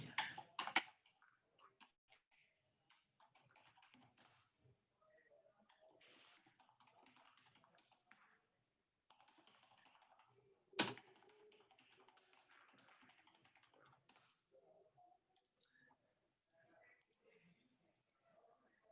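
A computer keyboard is typed on in quiet, irregular runs of light clicks, with a couple of sharper, louder taps standing out against an otherwise soft, close clatter.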